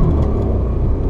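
Renault Kwid Outsider 2020 car engine accelerating from standstill, a steady low rumble and whir heard close from inside the car, continuous without speech.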